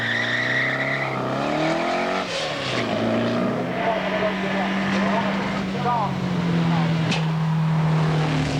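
A race car from a 1996 circuit drive accelerates flat out down the straight, its engine note climbing steadily through the gears, loud and close with tire noise, while someone speaks over it.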